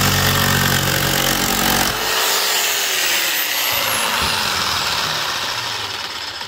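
A power saw runs loud and steady at very high speed with full forward feed through acrylic sheet for about two seconds, then the cut ends and the motor winds down gradually.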